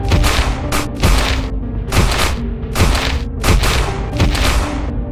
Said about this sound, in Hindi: मॉन्स्टर को अपनी तरफ आता देखकर रॉड और बाबा उस पर गोलियां चलाने लगते हैं।